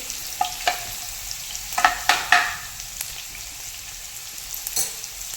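Green chillies frying on high flame in a pan for chicken noodles, a soft sizzle under a few sharp stirring scrapes and clatters clustered near the start, then quieter frying.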